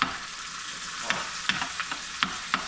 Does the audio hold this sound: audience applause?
no